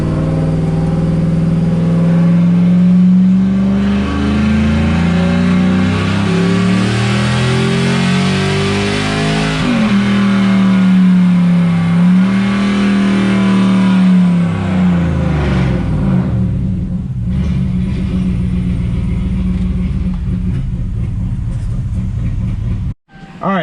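A 4th gen Ram truck with long-tube headers and full bolt-ons roars through a dyno pull, its engine note rising loudly, dipping briefly, climbing again and then cutting off near the end.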